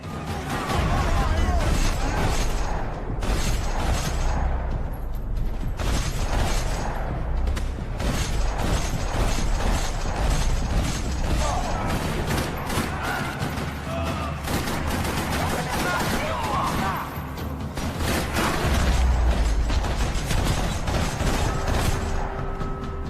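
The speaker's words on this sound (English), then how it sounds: "Another parking lot rattling with gunfire." Rapid bursts of video game gunfire in a parking lot in Max Payne 3 rattle almost nonstop, with crashes and mechanical clatter between volleys, all loud and close throughout.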